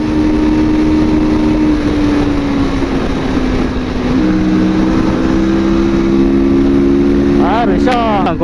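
A Kawasaki Vulcan S 650 cruiser motorcycle hums at a steady pace, then shifts gear midway with a drop in engine pitch, under wind rush and talking.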